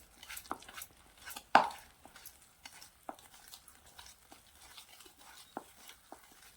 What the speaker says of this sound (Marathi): ते बघा चांगलं असं मिक्स करत करत घालायचं